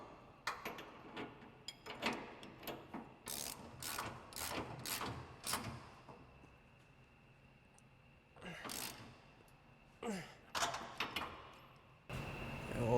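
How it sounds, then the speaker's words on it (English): A ratchet with a 24 mm socket tightens the rear leaf spring bolts on a 2015-2020 Ford F-150 being lowered, with close bursts of rapid clicking that pause and resume several times. "grab our 24 mil socket on our ratchet and the 21 mil wrench and start tightening these rear"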